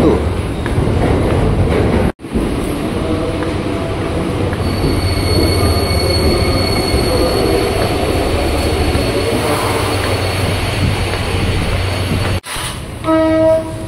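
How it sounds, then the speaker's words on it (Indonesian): A KRL commuter train bound for Jakarta Kota rolls into platform 1, with loud continuous wheel rumble and squeal, a horn, and a station announcement in the background, close and sustained. "komuter tujuan Jakarta Kota masuk ke jalur 1"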